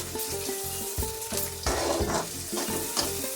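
Ridge gourd peel chutney ingredients sizzling in hot oil in a pan, with steady frying crackle broken by repeated scraping stirs of a spoon against the metal.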